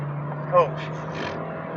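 A Honda Fit GE8 hatchback drives along with a steady low engine hum and road noise heard from inside the cabin, while a person talks over it.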